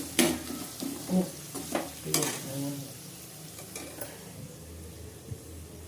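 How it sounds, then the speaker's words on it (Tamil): Three chopped tomatoes fry in a pan with a soft sizzle while a spoon stirs and scrapes in several distinct strokes, close but fairly quiet. "இப்போ தக்காளி போடுறேங்க மூணு தக்காளிங்க கட் பண்ணி போடுறேன்"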